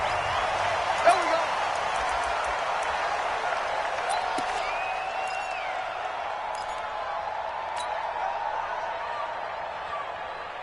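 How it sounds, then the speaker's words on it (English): A stadium crowd before an NFL game between the Carolina Panthers and Seattle Seahawks, a broad steady roar of cheering and chatter filling the space, distant and continuous, with a faint whistle-like tone rising briefly in the middle. "This crowd is ready as their guys get set to match up between the Carolina Panthers and the Seattle Seahawks."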